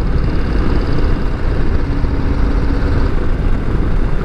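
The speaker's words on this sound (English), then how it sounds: "this bike has the same 117 motor that my Street Glide did" A Harley-Davidson Low Rider ST with its 117 motor rumbles steadily while being ridden on an open road, a loud continuous low engine drone mixed with wind noise.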